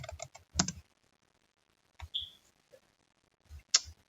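Bursts of computer keyboard typing, crisp and close, come in quick clusters separated by quiet pauses, with one brief high tone in between.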